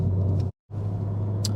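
A VW MK7 Golf R drives along with a steady low engine and road rumble heard from inside the car, cut by a brief dropout of silence.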